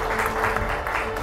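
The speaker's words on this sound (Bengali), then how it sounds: "তার জন্য একটি জোরে করতালি।" A brief burst of audience clapping at a Victory Day ceremony honouring Anonna Chowdhury, a steady crowd applause lasting about a second with music-like tones underneath.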